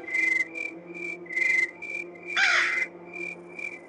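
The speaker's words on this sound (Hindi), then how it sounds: "वहां पे कौआ बैठा हुआ है क्या?" A crow caws repeatedly in the Granny 3 horror game, a series of short harsh calls spaced in a steady rhythm over a faint insect-like background hum, with one louder, rougher caw near the middle.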